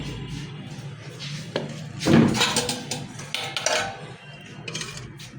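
A lid is set over a cooking pot of meat, sounding as a few close metallic clanks and scrapes of pot and lid, one louder clatter in the middle, with quieter kitchen knocks around it.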